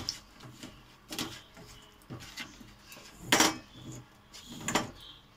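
Fish is worked by hand with chili, ginger and black pepper paste in a metal bowl or pot. It gives irregular wet squelches and clinks with short pauses between them, close and fairly quiet.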